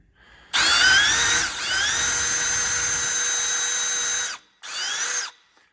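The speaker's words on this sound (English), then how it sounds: "let me grab a drill and do that" A power drill whines loudly at a steady high pitch for several seconds, dips briefly, then stops and restarts for a short second burst.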